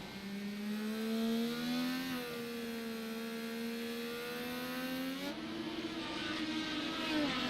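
IndyCar engines screaming at high revs in the iRacing sim at Barber in heavy rain, a constant loud whine that dips and climbs through gear changes, with no talking over it.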